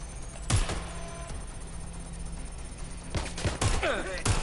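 Gunfire in the video game Watch Dogs Legion: a few sharp, loud shots spaced apart, one early and a cluster near the end, over a low game ambience.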